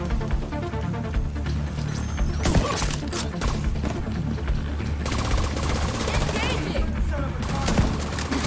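A deployed skill turret in The Division 2 video game fires sustained rapid automatic bursts, dense and continuous throughout, loud and close amid chaotic combat noise, with a voice talking over it.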